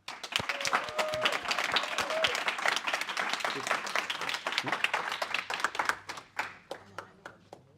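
An audience at a Java full-stack class final presentation breaks into warm applause, many hands clapping steadily for several seconds before thinning into a few scattered last claps, with brief voices in the room.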